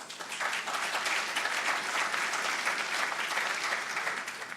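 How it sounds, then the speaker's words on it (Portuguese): Steady, dense applause from a conference audience in Brazil welcoming a speaker to a technical lecture, even and sustained with no voices. "Uma salva de palmas"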